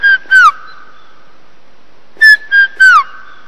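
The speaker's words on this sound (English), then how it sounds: "Yesterday Pitt was saying that he's heard a red-chested cuckoo" A red-chested cuckoo calls in summer bush around a camp, giving clear, loud whistled phrases: a quick pair of notes, a pause, then three more falling whistles close by, with no talk.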